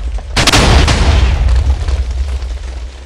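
Cannon in a video game firing once, a loud, close boom with a sharp attack that rolls off into a long, rumbling decay.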